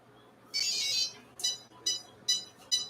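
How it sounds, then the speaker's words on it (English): A longer high electronic tone sounds first, then four short, sharp beeps follow in quick, evenly spaced succession against quiet background, from an SCX24 RC crawler's electronics. "Did you hear the 4 beeps?"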